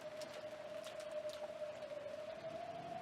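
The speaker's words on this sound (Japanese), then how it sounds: "嫌な雨ね。" Steady rain falls outside a house in a visual novel game, a soft continuous hiss with scattered drops, faint and even throughout with no voices.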